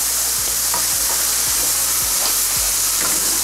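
Chopped onion fries and browns in a pan, with a steady loud sizzle and a spatula stirring and scraping roughly every half second in a regular rhythm.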